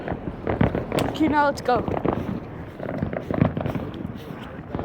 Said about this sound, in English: Yo, there's big fireworks.